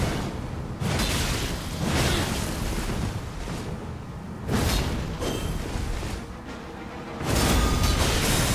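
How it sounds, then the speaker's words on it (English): Explosions from a weapon skill in Elden Ring, several heavy booming bursts with rumbling tails at irregular intervals, loud and close, with no talking. "Get hit by the explosion."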